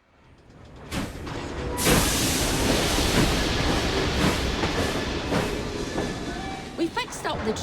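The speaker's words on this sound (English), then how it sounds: "We fixed up the train for you." A steam-era train from Assassin's Creed Syndicate rolls along the rails with a loud, steady rumble and hiss, faint rhythmic clatter underneath, while a voice speaks over it.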